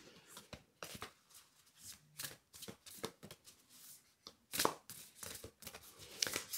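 Prairie Majesty Oracle cards being shuffled by hand, close and soft riffling bursts in an uneven rhythm with brief pauses and a few sharper card snaps.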